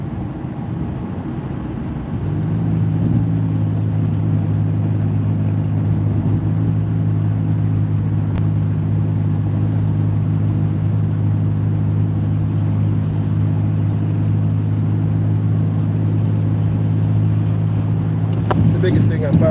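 Morning rush hour traffic heard from inside a moving car, a steady low engine and road rumble that holds level throughout with a slight rise after the first couple of seconds.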